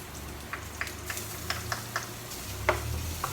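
Garlic going into a pan of onions for seafood kare-kare, giving a soft sizzle with light stirring clicks and scrapes scattered through, close by, with no talk.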